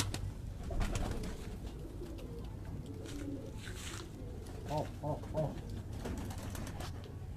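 French pigeons kept by a pigeon fancier coo in short repeated bursts close by, over a busy background of other birds and light scuffling, with a voice briefly heard.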